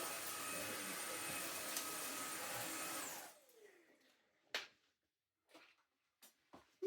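A Klarpul KL-001 cordless vacuum whirs steadily at high pitch, then powers down with a falling whine, followed by a few light knocks and clicks.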